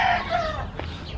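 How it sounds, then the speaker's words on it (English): A rooster crows inside a bird coop, a loud, close call with harmonic bands that trails off after about a second, with other fowl faintly in the background. "And then the roosters are right in here."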